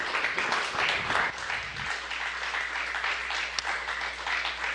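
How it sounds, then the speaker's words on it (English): Scattered clapping fills the Mission Control room after the Boeing/NASA Starliner deorbit and landing, a continuous patter of applause with a low hum underneath and a single sharper clap near the end. "May be able to hear some clapping here in the room in Mission Control."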